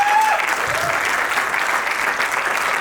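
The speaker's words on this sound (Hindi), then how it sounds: "तालियां।" Audience applause at a Hindi poetry recital, steady dense clapping from a crowd filling the whole stretch with no pause.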